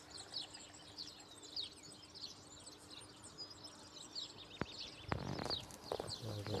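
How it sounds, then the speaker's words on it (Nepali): Birds call and chirp repeatedly across a village setting in Spain, the high calls steady over a faint background, with a louder burst of clatter and a low hum near the end. "ल यो चराहरू कराइरहेको छ।"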